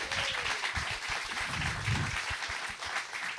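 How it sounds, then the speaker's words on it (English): An audience at a live podcast event in Austin gives a steady round of applause, dense and sustained throughout, with no talk over it. "And another round of applause for the legend, PMags, Paul Magnati."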